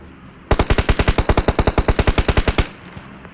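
Rapid automatic gunfire from PUBG Mobile, a steady burst of about twenty evenly spaced shots lasting around two seconds, loud and close, standing alone before the sound cuts off.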